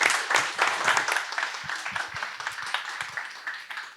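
Applause at a startup pitching forum follows a presentation, a crowd clapping in a dense, uneven patter that gradually thins across the room.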